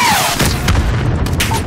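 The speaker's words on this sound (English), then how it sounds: "Missile inbound." Heavy missile strike blast in the Call of Duty Modern Warfare (2019) video game, a loud deep boom rumbling throughout with whistling tones fading beneath it.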